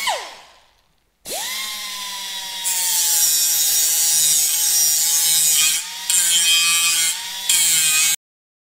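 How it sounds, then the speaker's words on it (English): A powered abrasive disc sands Hawker Typhoon fuselage frame parts. It spins up to a loud, continuous whining grind that holds for several seconds, with brief dips and surges, then cuts off abruptly. "now that they're all sanded down and properly radiused, is to clean up the burrs and any marks from that abrasive disc"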